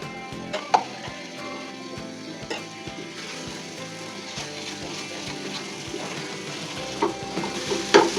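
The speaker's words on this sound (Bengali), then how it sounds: "ভালো করে এটা আমরা মিশিয়ে নেব ঘিটার সাথে আলু আর সুজিটা।" Mashed sweet potato and semolina get stirred with ghee in a pan for a homemade sweet, giving soft sizzling with repeated spoon scrapes and taps at a steady rhythm, close and fairly quiet, no voices.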